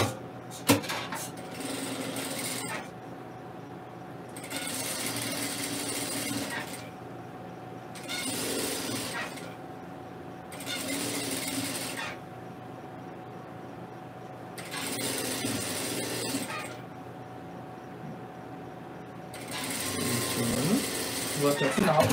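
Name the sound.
sewing machine stitching a seam to the end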